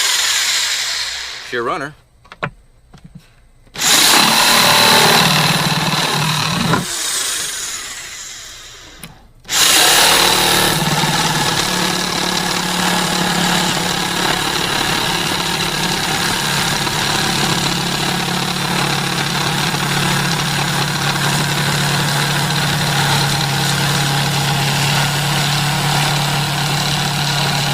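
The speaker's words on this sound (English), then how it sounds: "so we got the jigsaw. The jigsaw I know runs at like 400 watts." A jigsaw powered from a Rockpals Freeman 600 W portable power station buzzes loudly in short bursts, then runs continuously and steadily for most of the stretch, with someone talking briefly at the start.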